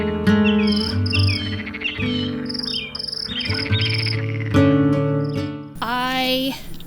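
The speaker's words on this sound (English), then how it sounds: "You hear nothing except the wind, the birds, the frogs, the crickets." Crickets and frogs call at night at a quiet rural campsite, rhythmic chirping pulses layered over sustained croaking tones, fairly loud and close, with a rising trill near the end.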